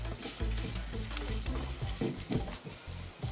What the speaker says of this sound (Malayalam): ഇനി ഇതിലേക്ക് വറ്റൽമുളക് ഇട്ടിളക്കാം. കുറച്ച് നേരം ഇളക്കി കൊടുക്കാം.